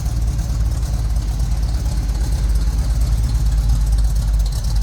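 A 1959 Chevrolet Apache 3200 Fleetside pickup with a 327 V8 idles in a steady, low rumble, even and continuous throughout, close by and with no talking over it.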